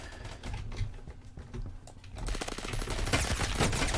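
M16A4 rifle bursts from the video game Phantom Forces come as fast choppy clatters, quiet at first and then louder and denser in the second half, with little talk.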